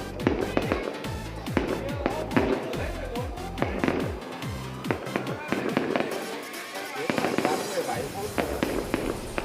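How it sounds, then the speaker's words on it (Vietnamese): Fireworks burst in rapid, crackling volleys at a New Year's Eve celebration in the highlands of Ha Giang, Vietnam, the sharp bangs dense and continuous, with people talking underneath. "Pháo hoa này là pháo hoa kém chất lượng rồi"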